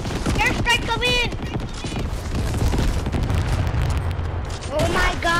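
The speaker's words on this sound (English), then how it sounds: "Airstrike coming" Airstrike explosions in the Fortnite video game boom and crackle in a dense, continuous barrage, with players talking over the loud blasts throughout.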